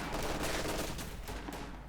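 Light machine gun fire in the Company of Heroes 2 strategy game, a dense steady stream of rapid shots mixed with rifle fire and battlefield noise, fairly loud and continuous throughout.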